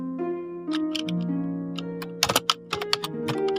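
Keys on a computer keyboard tapped in short bursts of sharp clicks that cluster toward the end, over a steady background of sustained musical tones.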